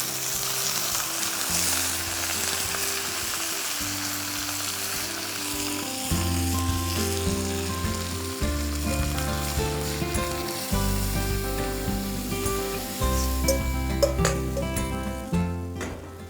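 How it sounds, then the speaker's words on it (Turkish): Artichokes sizzle in olive oil in a pot, a dense steady frying hiss and crackle that carries on at close range with occasional stirring and no voices. "Enginarlarımızı da bir karıştıralım."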